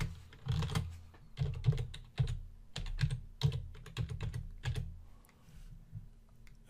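Login credentials typed on a computer keyboard, a close, clear run of key clicks in irregular bursts with short pauses between them, no voices.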